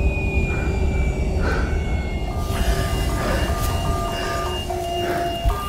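A train rumbles along in the horror video game Soma, with a dense, steady roar of rolling noise, whining metallic tones and clanks, loud and close throughout.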